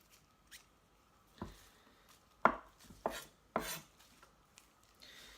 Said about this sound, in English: I'm going to chop this coriander up.